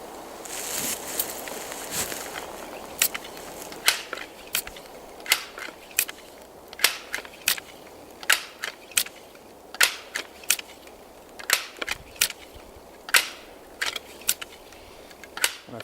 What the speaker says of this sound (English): I got in the habit every couple of shots I'd just cock it and dry fire it